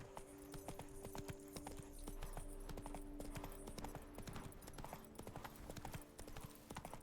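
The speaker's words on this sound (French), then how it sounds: "Oh les chevaux." Horses trot in The Witcher 3, with dense hollow clip-clop hoofbeats stepping steadily and fairly close over a faint background of game ambience.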